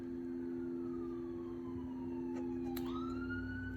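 An emergency vehicle siren wails in the distance as it passes, its rising and falling tone steady over a constant low hum, with a brief second siren sweep partway through; no one speaks.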